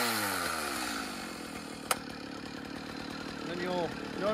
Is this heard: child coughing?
no